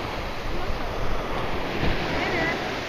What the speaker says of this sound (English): Damn, I don't like these waves.